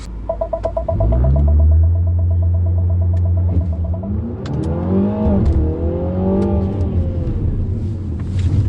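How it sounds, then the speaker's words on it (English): Mini JCW Clubman launching hard off the line with launch control at a Goodwood autosolo, a loud engine drone that holds then climbs through rising revs and gear changes, close and continuous. "I am using launch control off the line, which is quite cool."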